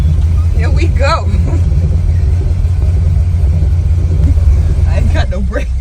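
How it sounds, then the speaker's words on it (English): A 95 car with a smooth clutch and no brakes idles and rolls slowly around a parking lot, a steady low engine rumble running beneath people talking. "We're just gonna do a little bit of parking lot driving."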